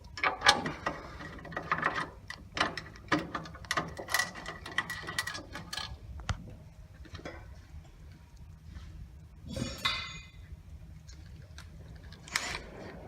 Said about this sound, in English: We loosely tighten these bolts up.